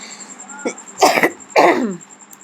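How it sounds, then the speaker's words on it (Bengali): Two harsh coughs close to the mic, about half a second apart, over a faint steady hum. "প্রচুর কাশি হচ্ছে"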